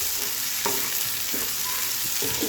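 Tamarind pieces fry in a pan for a tamarind and egg curry, a steady close sizzle with a few scraping stir strokes, no voices.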